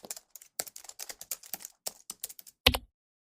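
Typing on a computer keyboard, a quick close run of separate key clicks in uneven bursts, ending in one heavier key press, then silence.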